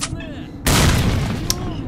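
A grenade detonates in S.T.A.L.K.E.R.: Shadow of Chernobyl: after a moment of speech, a sudden loud, close boom erupts and rolls on as a broad rumbling roar, with a sharper crack in the tail.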